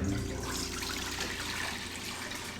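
Water and vegetable stock poured into a cooking pan before boiling for grits, a continuous splashing, gushing stream heard up close at a steady, fairly loud level throughout.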